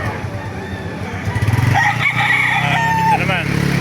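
Roosters crow loudly at a gamefowl market in Baliuag, Bulacan, one long call rising and trailing off over a busy background, while someone talks nearby.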